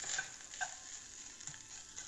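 Cashews fry with grated coconut in a pan, giving a faint, soft sizzle broken by a few light scrapes of stirring, with no one talking.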